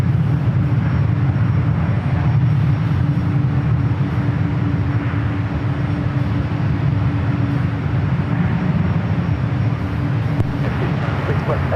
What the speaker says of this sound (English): Airbus A220-300 touching down to 28 right